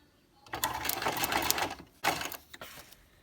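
A sewing machine runs a zigzag stitch through crepe paper in two close bursts of rapid mechanical clatter. The first lasts about a second and a half, the second is shorter and trails off.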